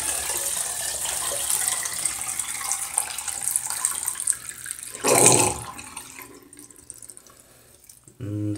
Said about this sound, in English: we're just gonna dump the water now and see how the paint reacts.